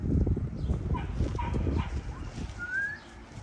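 XL Bully puppies whimpering and yipping in a run of short high cries and squeaks over low rumbling background noise, with a thin whine near the end.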